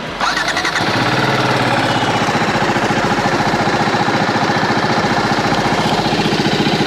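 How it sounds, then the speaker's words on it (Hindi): A TVS Apache RTR 310 motorcycle engine cranks and fires, then settles into a loud, steady, throbbing idle close by with no talking. "चलिए बाइक को स्टार्ट करते हैं और आपको इसका एग्जॉस्ट नोट भी सुनवाते हैं।"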